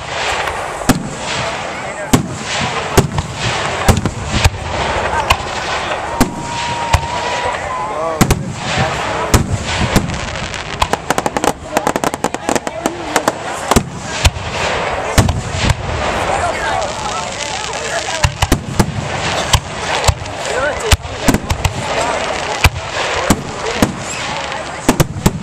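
Fourth of July fireworks burst in a dense, loud barrage of sharp booms and crackles, one after another with hardly a pause, while people nearby talk and react.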